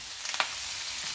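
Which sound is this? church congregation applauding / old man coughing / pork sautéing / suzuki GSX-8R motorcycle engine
pork sautéing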